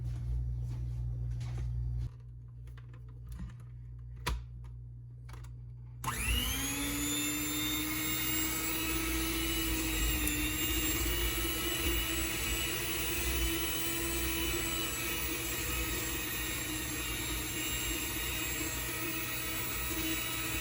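An electric mixer beats butter for cookie dough, starting abruptly after a few quiet seconds and then whirring steadily and loudly with a constant motor drone through the rest.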